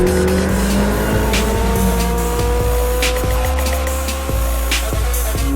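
A McLaren 675LT sports car drives hard on a track, its engine droning loud and close with rising and falling revs and brief gear-change breaks.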